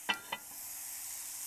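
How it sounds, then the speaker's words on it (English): Steak sizzles in a hot pan as a steady, quiet high hiss, opened by two sharp clicks, with no voices. "just didn't want to spoil the sizzle"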